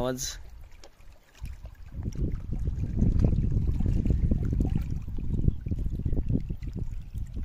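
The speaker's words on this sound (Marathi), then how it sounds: "वाऱ्याने पाणी कसं हलतंय आणि पाण्याचं साऊंड बघा तुम्ही" Wind-driven water stirs across a dam reservoir near Tide village in Mandangad, making a steady, close, broadband rushing wash that swells after a quieter first second and holds without a break.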